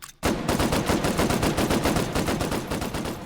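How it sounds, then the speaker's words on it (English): A hand-cranked Gatling gun firing in the VR game Hot Dogs, Horseshoes & Hand Grenades, with a loud, rapid, evenly spaced stream of shots that starts abruptly and runs without pause. "Oh God, a handheld Gatling gun."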